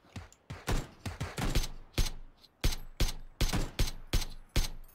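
Gunfire in the video game PUBG, a rapid string of loud, close sharp shots in bursts of single and doubled reports, with no talking.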